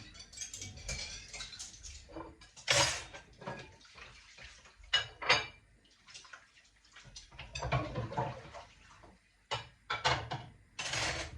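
Clean dishes and cutlery being put away in a home kitchen: irregular clinks of plates and rattling spoons and forks, with quiet gaps between clusters of clatter and a brief splash of water.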